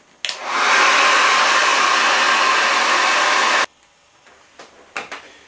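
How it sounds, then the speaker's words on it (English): A hair dryer roars on loudly with a steady blowing whir for about three seconds, aimed at a leather jacket, then cuts off abruptly, leaving a few soft knocks. "I'm just going to get the hairdryer on that again"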